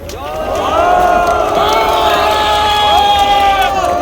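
A large crowd at a South Korean political protest press conference cheers, claps and shouts loudly and continuously, with many overlapping voices rising together.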